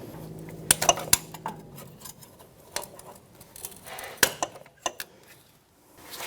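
A body clip tool pries a plastic clip off the front strut of a 2013-2018 Toyota RAV4 2.5L, giving several sharp clicks and light metallic taps, close and fairly quiet, with no talking.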